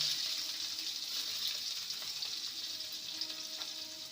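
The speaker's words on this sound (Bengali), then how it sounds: "পেঁয়াজটাকে হালকা ভেজে নেব" Chopped onion fries lightly in a pan with a steady, close sizzle and a faint crackle throughout.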